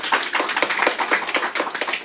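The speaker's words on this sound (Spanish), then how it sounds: "el aplauso para él" Audience applause for a historian before a lecture on Caguas, a close, dense patter of clapping hands at steady loudness from a modest crowd, rhythmic and uninterrupted, with no voices.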